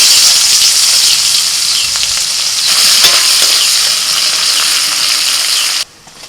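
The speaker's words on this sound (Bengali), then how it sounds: "ওই তেলের মধ্যে দিয়ে দিচ্ছি পেঁয়াজ কুচি।" Chopped onion sizzles loudly in hot oil left over from frying small fish, a steady close hiss with a few pops, cutting off abruptly near the end.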